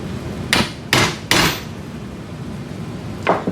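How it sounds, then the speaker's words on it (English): A radial stem implant is hammered into a Sawbones wrist model: three sharp, close metallic taps in quick succession, then a softer fourth tap after a pause. "Insert bone cement and impact the radial stem into its placement."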